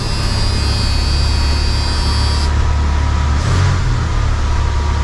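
A carbureted truck engine idles fast and steady nearby, a constant low drone with a high whine that cuts out partway through.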